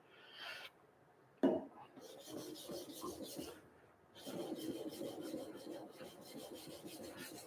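Blade spine rubbed on a diamond sharpening stone, scraping strokes in bursts separated by short pauses, with one sharp knock near the start, close and fairly quiet.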